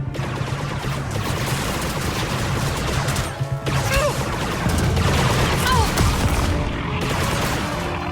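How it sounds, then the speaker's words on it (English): Grenade explosions hit an enemy during combat in the video game Star Wars Outlaws: loud, dense blasts and rapid crackling gunfire pour out almost without a break. "You took 2 grenades to the face."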